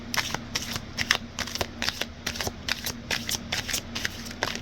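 Tarot cards being shuffled in a rapid, steady riffle of crisp papery flicks, close and fairly loud, with a low steady hum underneath and no talking.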